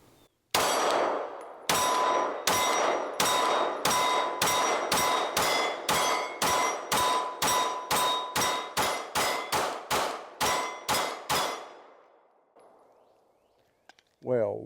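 A pistol fitted with a Radian Ramjet and its factory recoil spring fires a string of about 21 Blazer Brass rounds, sharp loud cracks in quick uneven rhythm, then a faint trailing ring.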